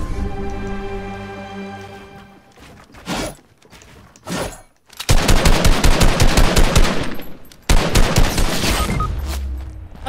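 Sniper and rapid gunfire in a video game, dense bursts of loud shots with a few short pauses between volleys, close and harsh, largely free of talk.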